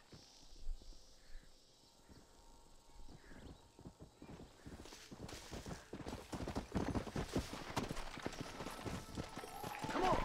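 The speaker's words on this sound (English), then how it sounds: "That's my horse over there, okay." Horse hooves in the video game Red Dead Redemption, quiet at first, then a rhythmic clip-clop that grows steadily louder and faster as the horse picks up pace.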